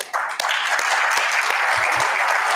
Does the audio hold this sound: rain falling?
no